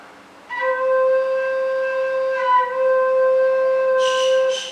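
A single sustained Thai khlui flute note, Re, holds steady and clear for several seconds, with a slight waver partway and a breathy edge near the end.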